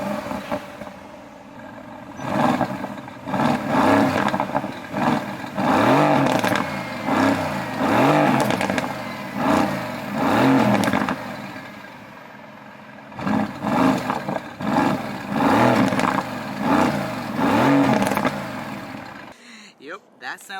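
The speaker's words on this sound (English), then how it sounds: "Let's get a quick rev from the GTS." A Mercedes-AMG GT S engine is revved loudly and close by in a series of rising, throaty blips. Two long bursts of revving are separated by a short lull, with the engine settling back to idle between pulls.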